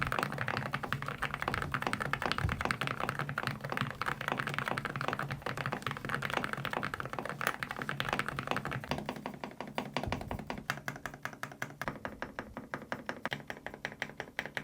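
Rapid typing on a modded Yunzii B87 mechanical keyboard with Gateron Milky Yellow switches, a dense stream of deep, muted thocky keystrokes up close, slowing into sparser taps toward the end.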